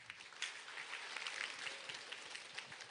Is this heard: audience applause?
yes